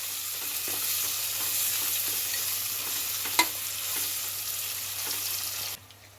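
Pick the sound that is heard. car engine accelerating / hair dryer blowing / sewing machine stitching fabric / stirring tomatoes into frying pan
stirring tomatoes into frying pan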